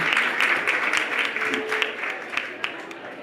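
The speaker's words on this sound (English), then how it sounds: "let's give a round of applause" Applause from a conference panel audience, a steady wash of clapping at moderate distance with a few sharper individual claps standing out.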